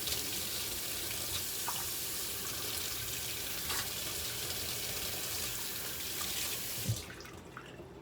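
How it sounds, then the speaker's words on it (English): Water runs steadily from a sink tap for washing with soap, a continuous close hiss with faint clinks, trailing off near the end, with no speech. "let's take soap and water and wash that off, and then let's reuse it again."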